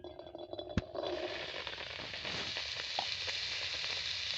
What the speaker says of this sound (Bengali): এবার আমি কড়াইয়ের মধ্যে গাজর দিয়ে দেব